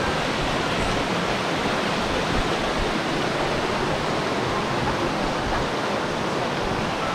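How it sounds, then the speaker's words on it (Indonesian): A river rushes continuously along the path toward Madakaripura waterfall in Probolinggo, forming a dense, even roar of flowing water that stays loud and unbroken from start to finish. "aliran sungai ini."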